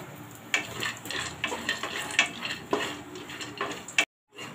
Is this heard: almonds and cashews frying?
yes